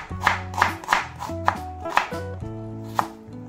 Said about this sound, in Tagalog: maghihiwa natin ang ating sangkap.